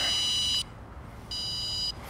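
A small car-tracker detector, which senses the low voltages inside a mobile phone, gives off loud steady high-pitched electronic beeps, two sustained tones separated by a short gap, with no talk.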